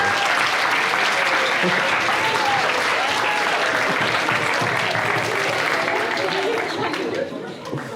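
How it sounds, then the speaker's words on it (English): An audience at a talk breaks into steady, dense applause for the speaker's girlfriend, a continuous wash of clapping mixed with some chatter that fades near the end. "Everyone give Becca a clap for being so supportive"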